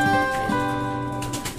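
A racing pigeon breeder coos close by, a short low throaty warble that rises and falls once, with no talk around it.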